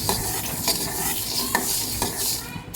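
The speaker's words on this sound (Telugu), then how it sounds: "ఆవాలు కూడా కొంచెం వేయించుకోవాలండి" Mustard seeds for chicken pickle frying and being stirred in a pan, a continuous sizzle with repeated sharp scraping strokes at close range and no talking.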